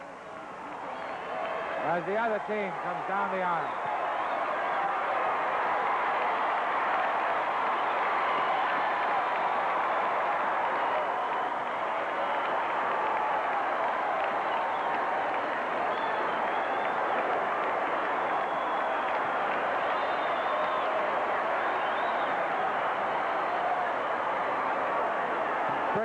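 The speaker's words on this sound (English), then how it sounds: "listen to this roar of the crowd" A wrestling arena crowd in Indianapolis roars loud and steady, a continuous wash of cheering and noise that never lets up, while a commentator talks over it throughout.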